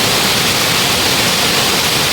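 The first tier of Mai Kai waterfall, in a Red Lahu village, roars as a loud, steady rush of falling water, close and unbroken, with no voices.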